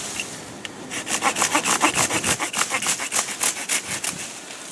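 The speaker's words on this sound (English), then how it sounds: "You can tell straight away when I'm cutting, see how the sawdust flying out?" A hand saw cuts through a dried ash wood fork for a catapult, with rapid rhythmic back-and-forth rasping strokes, close and loud.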